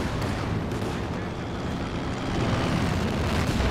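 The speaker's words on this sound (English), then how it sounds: "Still the IL-2s are flying around" IL-2 ground-attack aircraft fly over a battlefield in Company of Heroes 2, a low continuous roar mixed with rumbling battle noise and distant firing, while a voice talks over it.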